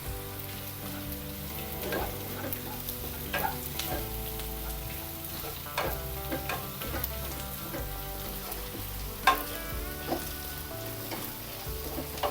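Three broken dried red chillies frying in oil for a Kerala ginger curry, giving a faint, continuous crackling sizzle with occasional soft stirring taps, heard quietly on its own.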